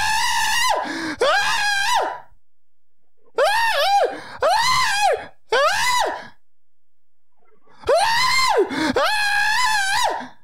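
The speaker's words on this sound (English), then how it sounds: "let's scream at someone" People scream loudly and up close in a series of long, wavering bursts separated by short silences, several voices at once.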